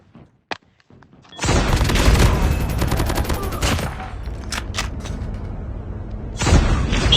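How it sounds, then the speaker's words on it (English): Heavy gunfire and booms in the video game Call of Duty Mobile: a few isolated clicks, then a sudden loud sustained barrage of automatic fire and explosions lasting several seconds, easing briefly before another loud burst. "Shoot the fucking thing, Neve."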